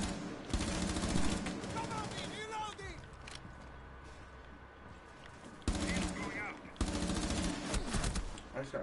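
Video game gunfire, bursts of rapid automatic shots in two loud clusters separated by quieter stretches, with a voice talking over parts of it.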